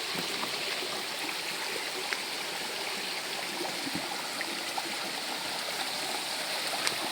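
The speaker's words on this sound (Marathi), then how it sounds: "खाली पाणी येतंय म्हणून ते काहीतरी करतात" Water flowing down at a Konkan fishing spot, a steady, close rushing and gurgling stream that continues unbroken, with no voices.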